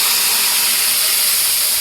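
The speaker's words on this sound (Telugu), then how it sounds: "నూనె కాగిపోయింది. ఇప్పుడు చింతపండు గుజ్జు వేసేసుకున్నాం." Tamarind pulp sizzles in hot oil in a pan while cooking a gooseberry pickle, a loud, steady, close hiss that continues evenly throughout without any talking.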